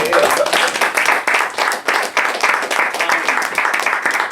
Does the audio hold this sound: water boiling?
no